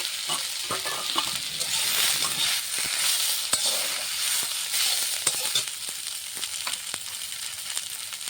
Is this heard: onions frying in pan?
yes